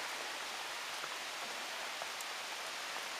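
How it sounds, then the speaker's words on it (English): Steady heavy rain hisses evenly throughout, with scattered drops pattering on a nearby surface and no voices. "You probably can't even hear me because of the rain"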